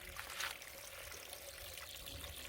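Water runs out of roadside bush in rural Jamaica, a faint steady trickle under broad background noise.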